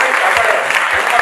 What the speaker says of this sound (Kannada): ಚಪ್ಪಾಳೆ ಹೊಡೀರಿ